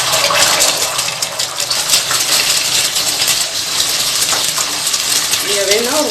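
Two eggs hit hot oil in a pan while making street-style chicken fried rice, producing a loud, continuous hiss and crackle of sizzling close up, with a voice rising briefly near the end.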